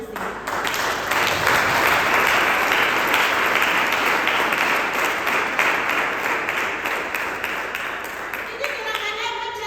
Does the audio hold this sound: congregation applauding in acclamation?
yes